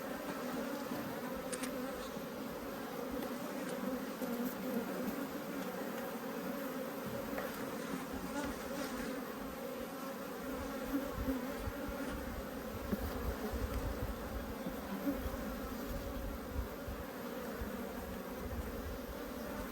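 Honeybees from an open hive, stirred up and agitated, keep up a dense, steady buzzing close by the whole time, with no voices over it.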